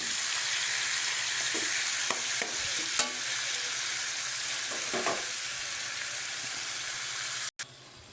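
Marinated pork for adobo fries in a hot pan, with a loud, steady close-up sizzle and hiss and a few stirring scrapes and knocks over it, ending in a brief break near the end.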